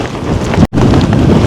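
Strong hurricane wind from Hurricane Melissa in Jamaica buffeting the microphone in a loud, roaring rush, with a brief sudden dropout before the gusting resumes.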